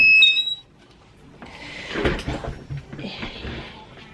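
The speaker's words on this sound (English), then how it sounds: "So it beeps, and now I need to stand up to get it open." A heat press gives a short, high electronic beep at the start when its cycle finishes, followed by clunks and rustling as the press is handled and opened.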